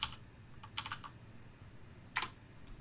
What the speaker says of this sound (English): I can just click into here, type my new config names